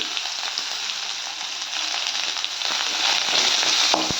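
Finely chopped onion drops into hot oil with curry leaves and dried red chilies for a cabbage dish, giving a continuous bright sizzle that swells louder toward the end, alone without talk.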